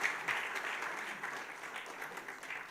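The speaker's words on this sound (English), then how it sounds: "Golden Crest Circle, a big round of applause." Audience at a Rotary Club gathering gives a steady round of applause, a dense patter of many hands clapping at moderate volume from start to finish.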